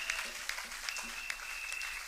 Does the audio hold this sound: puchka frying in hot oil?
no